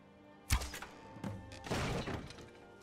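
In the video game Skyrim, an arrow strikes a mechanism, giving a sharp thud at impact, followed by clattering, rattling noises from the device. The sounds are brief and close, with no talking.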